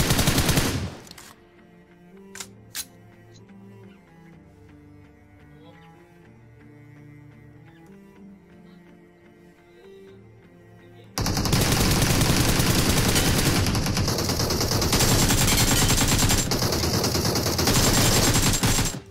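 Sustained automatic gunfire in the mobile shooter BGMI, loud and close. Sharp rapid bursts blur into a nearly continuous roar that comes in abruptly after a quieter stretch of game music and runs for several seconds.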